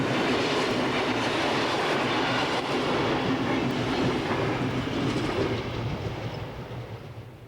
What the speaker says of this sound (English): there are many interesting trains on this international artery, such as this one, hauled by a Class 110 locomotive